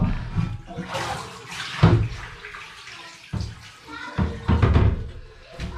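Water drained from a removed Kohler toilet is dumped into a bathtub during a DIY toilet replacement, heard as several close, uneven splashing and sloshing bursts with short pauses between them.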